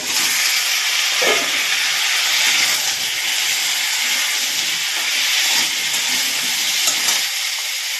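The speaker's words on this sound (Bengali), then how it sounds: "এবার এখানে আমি দিয়ে দেব সেই কেটে রাখা ঝিঙেগুলো" Chopped ridge gourd hits lightly fried potatoes in a hot pan, raising a loud, steady close-up sizzle with a dense hiss that holds throughout, alone with no talk.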